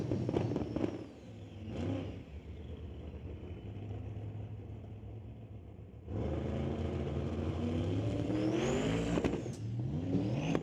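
Drag racing car at a Doorwarz test-and-tune event: a loud engine builds and revs, with a rising turbo whine, dips briefly, then surges again into a strong rising rev near the end.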